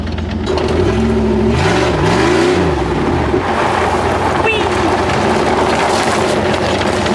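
A 5.2-litre V8 in a Jeep TJ runs loud and close, with a short rev that rises and falls and then settles back to a rough, steady idle carrying a lifter tick.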